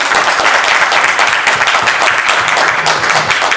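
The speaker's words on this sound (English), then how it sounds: "please just give them a round of applause for being here." Loud, dense audience applause at a workshop road show fills the whole stretch, steady crowd clapping with no break.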